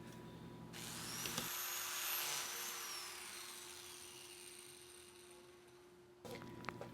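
A power saw cuts cabinet end panel pieces, its high whine rising as the blade bites and holding steady for about five seconds before cutting off, loud and close, with no talking.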